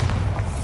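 A Bombarda spell blast from the Hogwarts Legacy video game, heard as a short, heavy, low booming thud that sustains through the whole moment without any voice.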